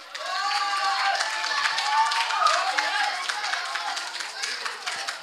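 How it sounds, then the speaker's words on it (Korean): A science-concert audience applauds to welcome a speaker to the stage, a steady wash of clapping with occasional sharper claps that holds for several seconds. "신비로운 우리 과학의 세계로 안내를 해주실 박영진 박사님 여러분들 큰 박수로 모시겠습니다."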